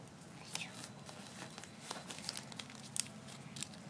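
Soft, close paper crinkling and light creasing as a sheet is folded into an origami hakama, quiet small rustles and taps scattered through, with a voice murmuring faintly underneath.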